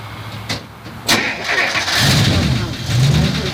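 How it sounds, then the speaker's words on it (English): A 1958 Chrysler with a 392 Hemi V8 cranks and fires up, a short starter whir followed by a loud rumbling catch into a rough idle with a couple of revs, close by, with voices talking over it. "Hey, Peter, go ahead and start her up."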